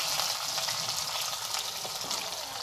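Fennel seeds and curry leaves fry in hot oil, giving a steady close sizzle with dense crackling that runs on without a break and has no talk over it.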